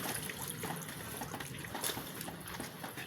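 Water trickles and splashes as it is poured into the radiator of a third-generation Toyota Vios, a faint, steady dribbling with small bubbling spurts.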